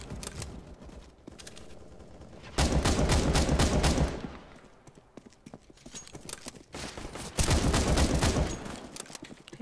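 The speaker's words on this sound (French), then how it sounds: "Je crois qu'il a tiré." Bursts of loud game gunfire in Counter-Strike: Global Offensive come in two sharp volleys over a quieter background of rhythmic clopping and faint talk.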